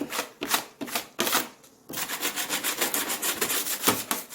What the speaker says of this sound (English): so take my big scraper and you just scrape it off.